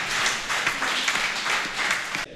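A crowd applauds loudly and steadily at a conference-debate on environmental management in Togo, a dense wash of clapping that cuts off abruptly at the end.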